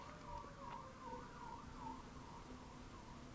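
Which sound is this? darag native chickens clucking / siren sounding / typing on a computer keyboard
siren sounding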